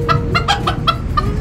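A small chicken gives a quick run of about six sharp, nasal clucks, close and clear, over a low background rumble.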